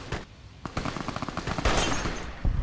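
Rapid bursts of gunfire in Fallout New Vegas, aimed at a crystal: a close, loud string of quick repeated shots with a short pause and a couple of heavier hits.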